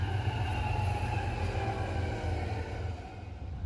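A BNSF freight train, a westbound manifest, passes a farm crossing on the Marceline Subdivision: a loud, steady low rumble of rolling wagons and wheels, close by and continuous, easing slightly toward the end.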